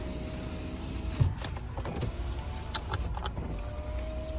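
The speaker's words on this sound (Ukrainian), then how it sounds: "Але також працює склопідйомники." Electric power windows in a Volkswagen Touran 1.6 MPI whir steadily for several seconds at close range, a thin motor drone with faint clicks and rustles over it and no speech.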